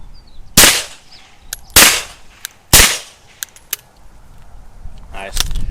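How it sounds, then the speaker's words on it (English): Sharp, loud cracks from a 9mm pistol fired through a short aluminum suppressor with one baffle, three strong reports spaced about a second apart, followed by a few lighter clicks and a final shot near the end. "where it sounds like a crack of a little gunshot"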